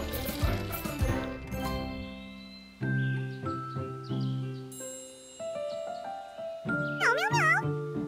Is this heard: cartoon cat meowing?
yes